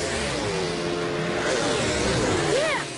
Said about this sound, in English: Listen, I can hear the race cars practicing for the race.